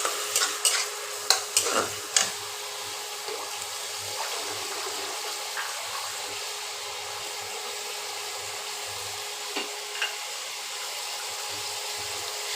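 Spices for an egg curry frying in a pan as water is added, steady sizzling hiss with a few sharp clatters and stirring scrapes near the start, continuing evenly afterward.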